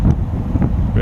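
Gusty wind buffets a river trail after a windstorm, a steady low rumble of wind noise pressing on the microphone throughout with brief stronger gusts.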